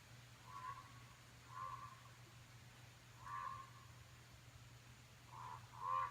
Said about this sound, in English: I have no idea what that is. It sounds like a goose